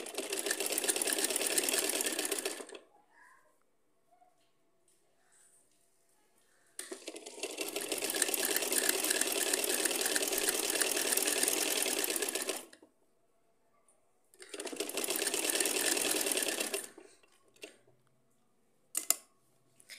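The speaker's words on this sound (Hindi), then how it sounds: "इस तरह से सिलाई रख के हम ऊपर स्टिच कर देंगे" An electric sewing machine stitches fabric in three steady, fast whirring runs of a few seconds each, separated by quiet pauses, with a faint click near the end, close up and with no talking.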